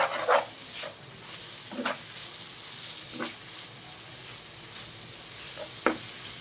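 Basmati fried rice being mixed in a pan, soft steady sizzling broken by a few brief scraping and tossing strokes at irregular intervals, close but fairly quiet, with no talking.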